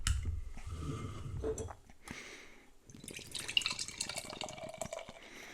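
Firestone Walker Parabolita imperial stout, a 9.2% sea salt beer, pours into a glass with a soft liquid trickle and gurgle that swells in the second half, close and fairly quiet.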